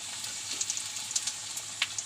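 Dried red chillies and mustard seeds crackle in hot oil for a Kerala mango pulissery tempering: a faint, steady sizzle dotted with small, scattered pops, with no voices.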